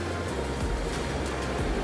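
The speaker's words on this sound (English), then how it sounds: "I'm gonna see if I can get some details of these waves crashing on the rocks here" Ocean waves crash against rocks along a loud shoreline, a steady, dense roar of surf with surges of heavier impact rolling through, heard alone without voices.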